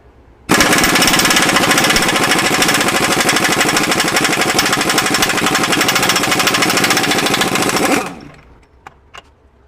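A Myers MTS53371 air impact wrench hammers continuously at close range, a loud, dense, rapid rattling burst lasting about seven seconds before winding down, followed by a couple of faint clicks.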